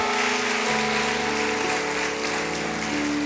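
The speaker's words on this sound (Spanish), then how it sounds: "Vamos, fuerte, fuerte ese aplauso." An audience applauding at a church event, a dense, continuous wash of clapping that stays loud throughout, with a sustained musical tone underneath.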